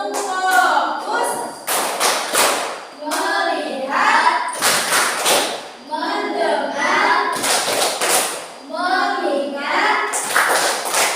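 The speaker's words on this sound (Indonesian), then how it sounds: "menyanyikan lagu Tepuk Fokus" Schoolchildren clap along to a rhythmic clapping chant in a classroom, with sharp hand claps and taps falling in quick patterned bursts between sung words from an adult and kids.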